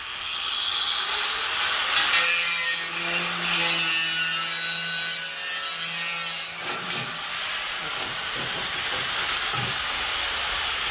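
A gas tank being cut with a power cutting tool: a steady loud hissing, grinding rasp that runs the whole time, with a brief low resonant drone in the middle and a few sharp clanks near the end.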